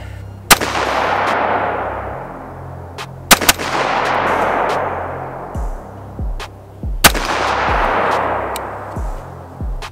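A custom-built rifle fitted with a Surefire War Comp muzzle brake fires loud, sharp outdoor shots, a few single reports spaced seconds apart, each followed by a long rolling echo.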